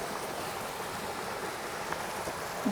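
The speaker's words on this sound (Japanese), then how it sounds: "一応滝にはなってる" Small waterfall at a shrine in Shimane, a steady, even rush of falling water that stays constant throughout, with no voices and only a faint bump near the end.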